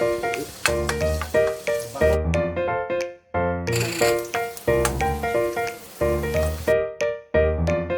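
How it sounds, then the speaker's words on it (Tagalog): Garlic sizzles in hot oil in a pan, the crackling frying coming in loud close bursts broken by brief quiet gaps, likely from stirring. "lalagay po natin una yung bawang"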